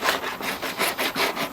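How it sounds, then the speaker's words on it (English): Sandpaper rubbed briskly back and forth over a plastic pipe to remove glue, in quick, even strokes, a steady rasping rhythm close by with no talking. "I'm just in the process of sanding this down to get rid of as much of that glue,"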